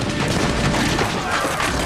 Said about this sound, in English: followed by a second round of gunfire